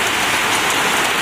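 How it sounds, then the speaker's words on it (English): Rain leaking inside a workshop makes a dense, loud, continuous hiss of pattering water, steady and close with no breaks. "it's raining inside a little"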